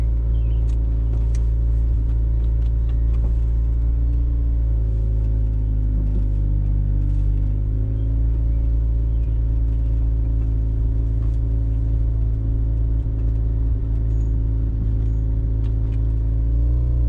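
A cold Mazda-style rotary engine car drives steadily on the road, with a constant low droning hum and rumble throughout and no talking.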